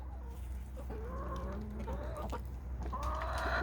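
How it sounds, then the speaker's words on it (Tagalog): A flock of year-old chickens, including White Leghorns, clucks and murmurs softly while feeding, several birds calling in short overlapping phrases over a low steady background hum. "Kain muna kayo mga manok."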